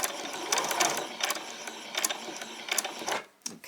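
A sewing machine back stitches fabric for a white top, short bursts of rapid mechanical clatter starting and stopping close up, ending in a brief pause.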